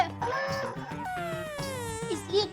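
Young boy cries loudly, a continuous wavering wail with rising and falling sobs sustained throughout, over a busy background of household sound.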